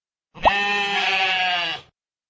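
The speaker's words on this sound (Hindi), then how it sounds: "भेड़" A single sheep bleat from an animal sounds puzzle game, one clear, close, sustained wavering call lasting about a second and a half, with nothing else around it.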